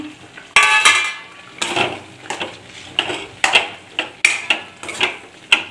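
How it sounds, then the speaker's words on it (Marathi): Mushroom pieces tipped into a frying masala with cooked peas, giving a sudden clatter followed by repeated scraping stirs and soft sizzling close by, with no talk. "तर आपण हे मशरूमचे तुकडे त्याच्यात टाकूया"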